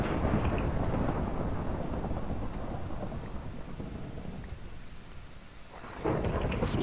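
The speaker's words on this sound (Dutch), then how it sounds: "echt niet normaal hoeveel onweer." Thunder rolls and rumbles through steady heavy rain in a Minecraft UHC storm, a long loud grumble that eases off mid-way before a fresh crack of thunder swells up near the end, with no talking.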